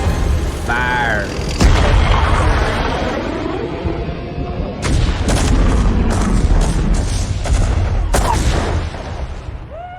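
Artillery fire and explosions in StarCraft Remastered: heavy booms and rapid blasts, loud and close, with rumbling battle noise and voices speaking between the shots.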